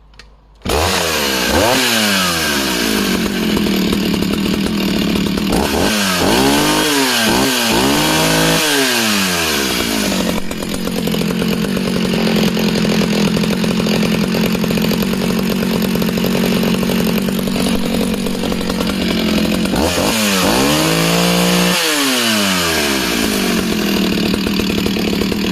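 A Partner 650 chainsaw engine runs and cuts wood, loud and close, with repeated rising and falling revs as the chain bites and frees through the cut.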